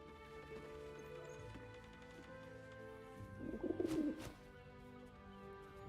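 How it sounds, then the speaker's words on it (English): A pigeon cooing in the video game Baldur's Gate 3, a soft throaty burble heard briefly midway over a quiet ambient music bed. "The pigeon carries itself with an air of dignity, its mannerisms stern and commanding."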